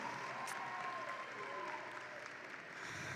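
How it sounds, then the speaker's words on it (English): A high school graduation crowd at Del Norte High School in 2024 gives another round of applause: a broad, sustained wash of many hands clapping that runs steadily throughout. "One more round of applause for Gabby."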